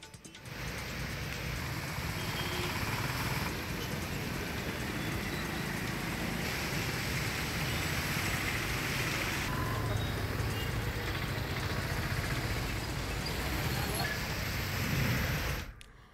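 Heavy unseasonal rain pours steadily in Dapoli, Ratnagiri district, a dense continuous hiss of downpour on surfaces that stays loud and even throughout, ending abruptly.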